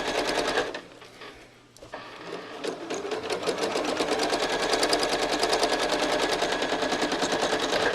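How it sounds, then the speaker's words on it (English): A sewing machine stitches through a quilt during free-motion quilting, starting after a short pause and settling into a loud, steady, rapid run of needle strokes. "Let me quickly stitch down to the bottom."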